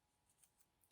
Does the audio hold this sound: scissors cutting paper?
yes